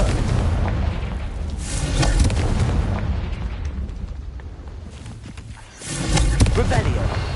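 A Confringo fire-blast spell in Hogwarts Legacy goes off as a loud, dense booming explosion with a rumbling tail, followed by another rising burst, over continuous game sound.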